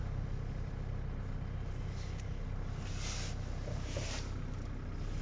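A Renault Megane engine idling after standing unused for a long time, a low, even rumble held steadily at close range with no break.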